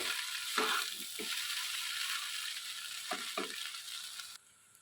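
Egg chowmein with vegetables being stir-fried in a pan on high flame, a steady close sizzle broken by several sharp scraping and tossing clacks of the spatula, then cutting off abruptly near the end.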